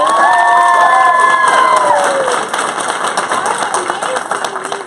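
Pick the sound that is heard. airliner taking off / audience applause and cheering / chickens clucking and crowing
audience applause and cheering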